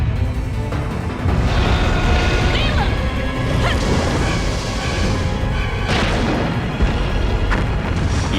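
An explosion in the video game Dino Crisis: a heavy boom with crashing debris and rumbling aftershocks, loud and sustained with further blasts around two and six seconds in.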